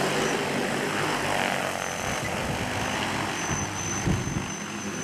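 An agricultural spraying drone lifts off during a field demonstration, its propellers producing a loud, steady broadband whir that holds throughout with slight swells, and no voices are heard.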